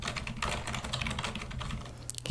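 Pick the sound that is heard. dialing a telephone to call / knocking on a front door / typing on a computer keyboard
typing on a computer keyboard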